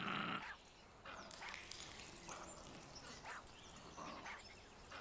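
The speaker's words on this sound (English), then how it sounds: "I hear him growling and barking." A hostile dog in the Caribbean open-world survival game Survival: Fountain of Youth gives a loud opening bark followed by a run of quieter, separate growls and short barks, several bursts spaced about a second apart.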